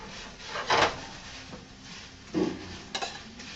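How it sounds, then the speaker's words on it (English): Raw vegetables stirred in a pan, a few scraping and clattering strokes of a utensil against the pan at irregular intervals, close up, with no one speaking. "I'm just going to stir them a little bit"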